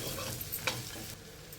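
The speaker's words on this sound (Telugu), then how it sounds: "ఇప్పుడు 1 నిమిషం ఫ్రై చేసేసుకుందాము." Chopped garlic and green chillies frying in a pan, a steady low sizzle with a couple of light stirring scrapes, close and quiet, no voices.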